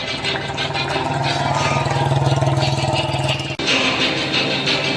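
Motorcycles revving during an ITBP stunt riding display at a passing-out parade ceremony, a loud continuous engine drone with a brief dropout before it resumes.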